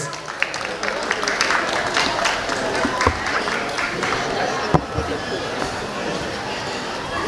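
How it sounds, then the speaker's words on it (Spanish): Wedding guests applaud the bride and groom at an evening reception, a continuous crowd clatter with scattered sharp claps, under an announcer's voice. "Les pedimos un fuerte aplauso para la novia y para el novio"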